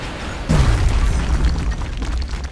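Grenade blast in the tactical game XCOM, a loud, close boom that erupts suddenly and gives way to a sustained rumbling roar of debris lasting about two seconds, with no talking.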